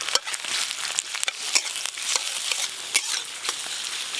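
Chopped onion fries in mustard oil, crackling and sizzling close up, with sharp, irregular clicks and scrapes from stirring over a bright, hissing bed of frying.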